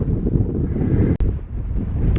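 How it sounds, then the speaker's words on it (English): Strong, steady wind buffets the microphone on the hilltop of Arthur's Seat in Edinburgh with a low, roaring rumble, broken by a brief dropout, no voices. "Tell you, it's windy. It's brisk."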